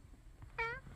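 A single cat meows once inside a car, a short, clear, tonal meow heard close against a low, quiet background rumble.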